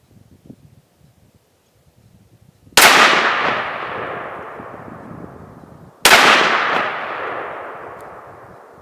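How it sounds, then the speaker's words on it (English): A 5.56 green tip rifle round is fired at a padlock: two sharp, loud outdoor shots a few seconds apart, each with a long echoing decay. "Now we're going to shoot the green tip."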